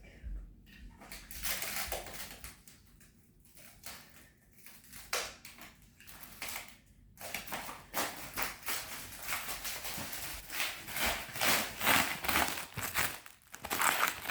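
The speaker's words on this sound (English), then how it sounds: "Yeah, that's thick plastic." Thick plastic packaging on a new Ghost bed mattress crinkles and crackles in irregular bursts as it is handled and opened, fairly close, with quiet gaps and some faint voices in between.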